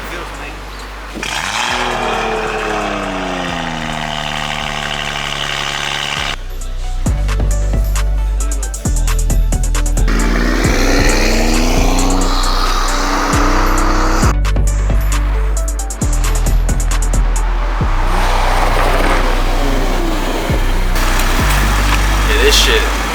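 A tuned BMW M340i with about 50 extra wheel horsepower accelerates hard on the road, its loud engine revving up through stepped gear changes with rising and falling pitch, heard close from inside the car.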